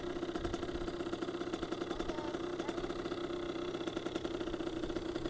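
A Kawasaki KX100 dirt bike engine runs steadily at low, idle-like revs, a continuous close mechanical drone with a fast pulsing rhythm and no other sounds over it.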